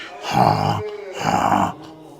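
Two drawn-out, rasping snore sounds made by a person's voice imitating snoring, one after another with a short pause between.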